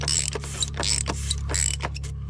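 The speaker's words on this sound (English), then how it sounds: "Grab your 33 mil socket again. Tighten her down." A ratchet on a 33 mm socket tightens the oil filter housing of a 2014 VW Passat TDI, clicking in quick close repeated bursts over a steady low hum.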